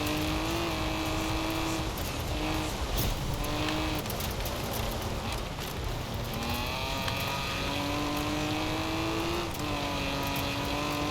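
A barn-find, race-tuned, all-wheel-drive 1960 Aston Martin DB4 GT Zagato on race tires accelerating off-road, its engine loud and close, climbing in pitch, easing, and then climbing again.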